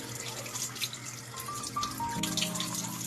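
Running tap water pours over hands and forearms during a medical hand-washing routine, a steady close hiss with a few soft splashes throughout.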